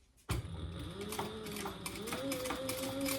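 A sewing machine backstitches the top of a slip pocket on a clutch organizer wallet, its motor humming steadily and close after a sharp start, with rapid needle clatter that shifts pitch as it reverses.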